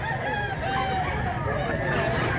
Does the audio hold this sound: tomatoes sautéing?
no